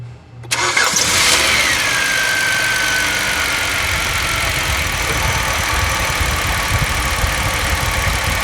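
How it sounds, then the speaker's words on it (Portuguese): A Hyundai V6 car engine cranks and catches, then settles into a loud, steady idle with a low rumbling hum, heard up close. "Vamos escutar a melodia agora desse motor V6 aí?"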